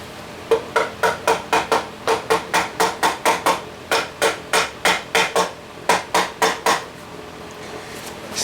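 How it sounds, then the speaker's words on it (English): Hammer tapping a part into place, about two dozen sharp metallic knocks in quick, steady runs with brief pauses between the groups, close and loud. "Get the hammer."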